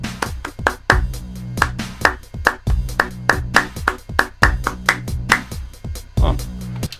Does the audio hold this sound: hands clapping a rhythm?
yes